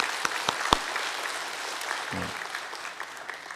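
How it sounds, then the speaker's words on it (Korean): A church congregation claps in encouragement and thanks for its shepherd leaders, a soft, fairly distant patter of many hands with a few sharper claps near the start and a brief voice in the middle. "여러분 격려의 박수, 감사의 박수 한번 드리겠습니다."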